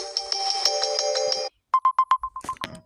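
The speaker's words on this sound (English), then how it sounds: "But here's my ringtone." A Samsung Galaxy phone ringtone plays loud and alone: a steady run of bright pulsing electronic tones, then a sudden cut and a second tune of quick, evenly spaced beeps that fade slightly before ending.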